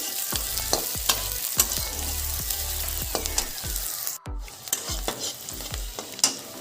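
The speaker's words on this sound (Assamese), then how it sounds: "পিঁয়াজ আৰু জলকীয়াখিনি অকণমান সময় ভাজি ল'ম।" Onions and green chillies fry in oil in a wok under a steady sizzle. A spatula scrapes through them in a regular, repeated rhythm, loud and close, with no talking.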